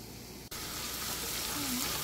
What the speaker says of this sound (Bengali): এখানে রসুন প্রথমে তেলের মধ্যে একটু হালকা ভেজে তারপর পেঁয়াজটা দিয়েছি।